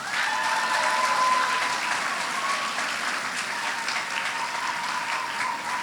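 Sustained applause from a seated audience at a school graduation ceremony, a dense, even wash of clapping that stays steady and fairly close for the whole stretch, with no voices over it.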